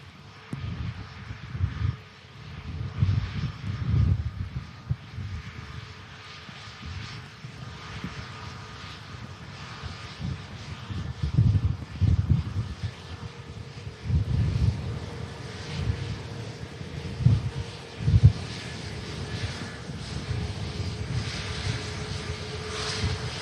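A Sun Express airliner taxis out at Manchester Airport, its jet engines a steady low rumble with swelling surges, heard from a distance through gusty wind buffeting the microphone.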